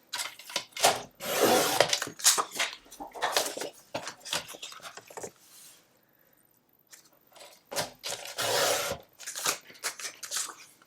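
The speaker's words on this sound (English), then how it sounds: "we're going to cut this paper 9 by 9" Scissors cut through a sheet of paper for a papercraft explosion box, with repeated crisp snipping and rasping strokes in bursts, close and clear, pausing briefly midway before resuming.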